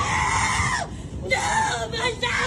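A woman screams loudly and repeatedly during an arrest near an airport baggage claim, with long wailing cries that break off briefly and resume amid background commotion.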